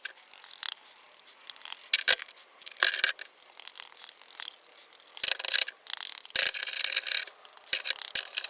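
A cloth works oil into an old leather saddle during restoration, a close, soft rubbing with scratchy strokes and brief gaps, steady and quiet with no talk.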